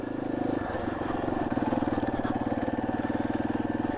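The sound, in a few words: motorcycle riding on desert roads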